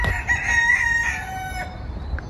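A rooster crows at a farmhouse kept with ponies, chickens, sheep and goats beside a polder, a loud, clear drawn-out call fading off near the end, with no talking.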